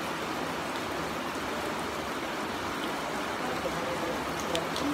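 Heavy rain pours down in a dense, continuous hiss that stays constant and fairly loud throughout, with no distinct pauses or other sounds standing out.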